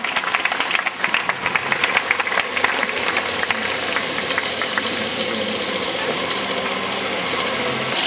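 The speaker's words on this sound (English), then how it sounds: "please, huge round of claps, everyone" Applause from an audience welcoming a chief guest, a dense continuous patter of many hands clapping at steady loudness throughout.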